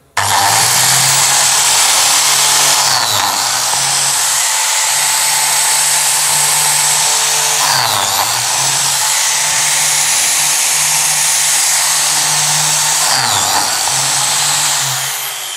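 A Lamello biscuit joiner cutting slots in solid oak for a bathroom cabinet, a loud continuous high motor whine with brief dips as each cut is plunged, about three cuts in a row, no talk.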